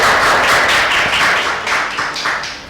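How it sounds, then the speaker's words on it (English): Applause from an audience at a school quiz competition, a sustained, loud wash of clapping lasting a few seconds with no talk over it. "A round of applause."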